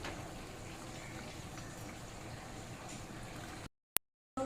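Green banana kofta curry simmering in a pan, a steady soft bubbling and hiss at low level with faint pops, close and continuous before cutting to near silence.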